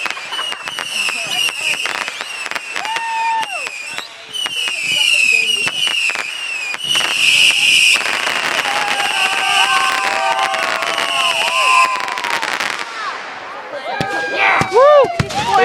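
Fourth of July fireworks show explode with a dense run of loud booms, cracks and crackling bursts, and whistling shells rise through it while a crowd cheers and people talk and shout nearby.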